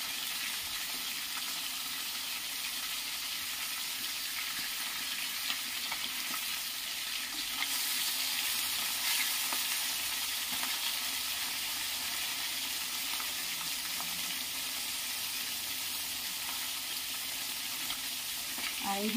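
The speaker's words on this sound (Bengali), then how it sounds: "একটা পিস ভাজা হয়ে গেছে, আবার একটা পিস উল্টে দিচ্ছি যাতে ভালো করে ভাজা হয়ে যায়।" Pieces of home-pond fish fry in a pan with a steady, close sizzle and crackle that runs unbroken from start to finish, with no talking.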